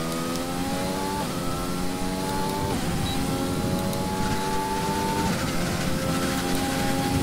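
A Formula 1 car from the F1 2020 video game laps the Spain circuit, its engine screaming loud and steady, pitch climbing through each gear and dropping sharply at every upshift.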